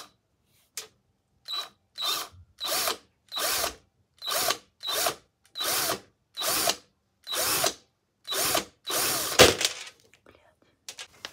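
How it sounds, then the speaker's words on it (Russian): An electric drill bores holes in short, evenly spaced whirring bursts, about a dozen in a row, each a loud whine separated by brief silences, close to the listener. "Я тут уже взяла сверло."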